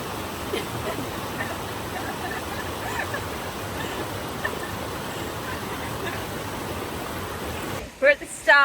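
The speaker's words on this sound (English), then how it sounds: "River crossing to get to the start." A rushing mountain river in the Italian Alps pours in a constant broadband hiss close by, with brief rustling handling noise at the very end.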